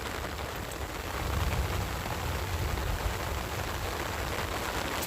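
Rain falls steadily outdoors, a dense, even patter and hiss with no breaks, heard close around someone walking on a path.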